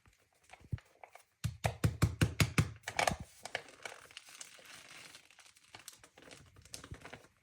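Starch powder is poured from a crinkling packet into a container in a quick series of rustling bursts, followed by quieter shuffling, while making a non-Newtonian fluid.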